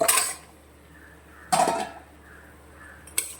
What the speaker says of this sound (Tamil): இப்போ க்ளீன் பண்ணி வச்சு எலும்பை சேர்த்துக்கோங்க